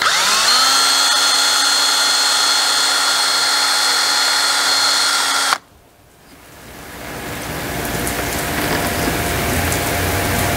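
A power drill bores a hole in a DIY measuring cups and spoons rack, a steady close whine that winds down and cuts off midway, followed by a quieter, rising whir.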